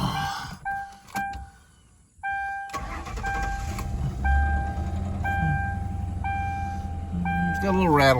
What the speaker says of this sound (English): It's got a little rattle on startup.